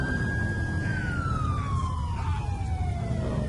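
A police car siren from GTA 4 wails in a single long falling sweep over a steady low engine and road rumble, moderately loud with no talking.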